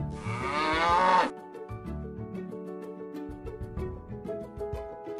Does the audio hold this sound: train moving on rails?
no